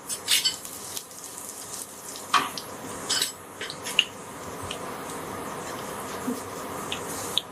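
Fenugreek seeds (methi dana) sizzle softly in hot oil for a Punjabi kadhi pakora, a steady low crackle with a few sharper pops and light clinks scattered through it, nearby and moderately quiet.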